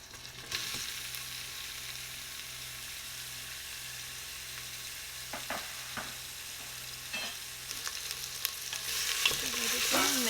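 Onions frying in a pan with tomato paste and crushed pepper, a soft steady sizzle with intermittent scraping stirs from a spoon, quiet and close, with no talking.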